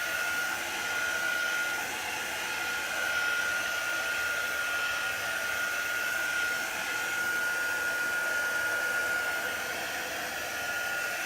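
A hair dryer runs steadily to heat-set chalk paint on a dish towel, a loud, constant, airy whoosh with a faint high whine, close and unbroken, with no talking.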